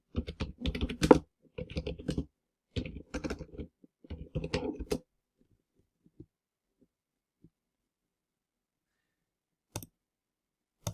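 Quick bursts of typing on a computer keyboard, close and crisp, in several short clusters over about five seconds, followed by near silence with a few isolated clicks.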